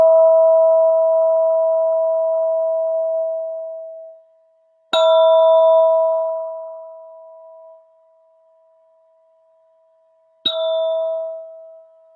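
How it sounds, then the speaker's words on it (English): A meditation bell rings with a pure, sustained tone that slowly fades, then is struck again twice, each strike giving a bright attack before the long ringing decay, clear and alone in silence. "we're going to begin this mindful sit with the sound of the bell."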